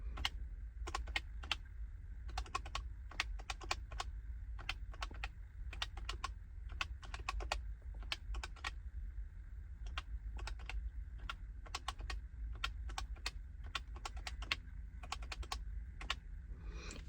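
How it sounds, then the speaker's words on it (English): Rapid bursts of computer keyboard typing while budget figures are keyed in, close and crisp, with short pauses between runs of keystrokes over a quiet room. "Let me just make sure I type that in right."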